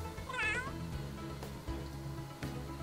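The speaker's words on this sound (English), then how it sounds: "I love this cat. Oh my god, he's gonna have a deep ass voice." A cat meowing in a deep voice in the video game The Sims 3, one drawn-out meow near the start over a low background hum, fairly faint.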